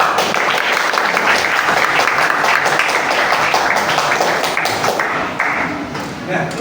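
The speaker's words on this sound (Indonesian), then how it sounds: "beri tepuk tangan dulu untuk saudara" Classroom of students clapping together, a dense steady round of applause that tapers slightly near the end, close and fairly loud.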